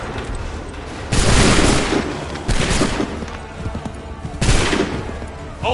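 Musket volleys fired by ranks of soldiers in Assassin's Creed III, three loud, booming crackling bursts spaced about a second and a half apart over a low rumbling battlefield din.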